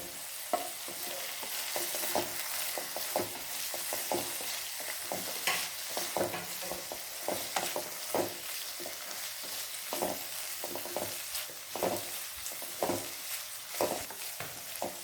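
Onions, green chillies and curry leaves sautéing in a pan: a soft continuous sizzle broken by repeated scraping stirs, moderately close and with no talking.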